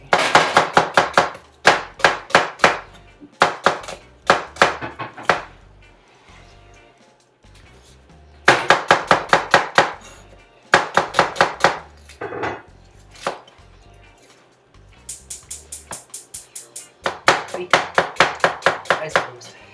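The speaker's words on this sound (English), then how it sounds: "cutting a lot of these onions with my eyes closed" Onions being chopped with a knife on a board, rapid bursts of crisp, close knocks, six to ten strikes per run, separated by short pauses, loud and without talk.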